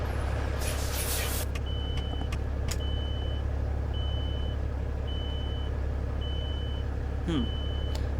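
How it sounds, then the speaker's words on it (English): A truck's low air alarm in American Truck Simulator beeps as a steady series of short, evenly spaced tones over a constant low engine idle, with a couple of brief hissing bursts. "Now my low air alarm is working."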